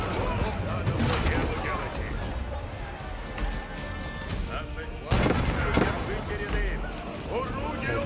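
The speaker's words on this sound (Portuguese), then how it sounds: "tem dois canhões lutando, provavelmente" Heavy booming cannon fire in Age of Empires 4, repeated blasts and rumbling explosions with a sharp loud hit midway, dense battle noise throughout.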